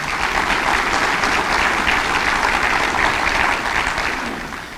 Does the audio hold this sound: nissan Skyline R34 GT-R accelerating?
no